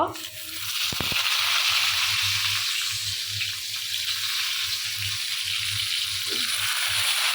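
Eggplant frying in hot oil in a pan, a steady loud sizzle that runs throughout with some clatter near the start.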